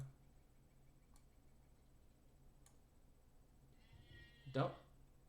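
A sheep in the LOTRO video game lets out a single short bleat near the end, after faint ticking sounds in an otherwise quiet stretch.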